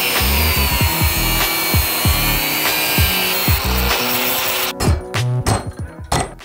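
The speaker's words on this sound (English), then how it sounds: "Time to cut metal." A power tool cuts metal for a 3D printed naval cannon build, grinding in loud, repeated strokes that stop near the end and leave a few sharp knocks and clatters.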